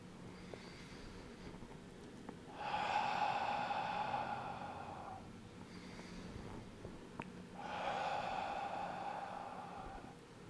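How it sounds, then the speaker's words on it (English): Two slow, gentle exhales through the mouth with a soft breathy ha, like fogging a mirror, during a qigong breathing exercise; close and quiet, each lasting a couple of seconds with a pause between. "With a gentle ha sound, like you're fogging up a mirror."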